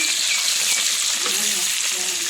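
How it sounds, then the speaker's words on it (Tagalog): Garlic frying in a hot pan gives a steady, loud, close sizzle with crackling and stirring, continuing without a break. "Tapos, balonan ng bawang."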